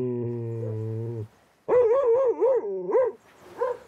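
A tense dog vocalizes in a few loud, close bursts: a sustained whine-like tone, then wavering yelps and barks, with short pauses between them.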